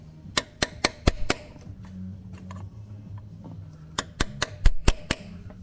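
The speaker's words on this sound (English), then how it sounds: "Gentle taps. Keep going around it in various places." Two bursts of sharp, evenly spaced metallic taps, about five each, gently tapping a drive shaft seal into place on a Volkswagen Passat CC, separated by a quiet pause with low background noise.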